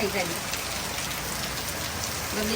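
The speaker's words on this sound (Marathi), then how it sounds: "खूप पाऊस आहे बघ" Heavy rain pours down in a dense, even hiss, beating steadily on surfaces close by.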